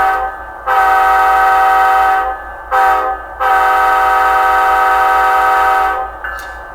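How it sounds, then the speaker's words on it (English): A model train's grade crossing horn sound effect, a loud multi-tone blast blown three times, two long and one short, with brief gaps between, close and clear. "So, for instance, the grade crossing horn"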